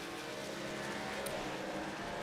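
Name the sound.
race car engine at low revs, video game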